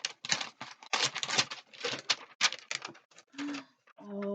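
Cosmetics packaging from an A.pothecary unboxing being ripped open by hand, heard as a rapid series of loud, close tearing and rustling bursts, ending with a short voiced sound.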